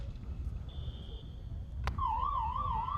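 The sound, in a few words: siren ending a field hockey quarter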